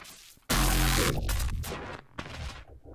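A Bitwig synth generator patch from the Eternum 2 pack bursts in loud and abrupt with a thick, noisy, explosive-sounding blast, then pulses and swells in rough bursts before cutting and returning.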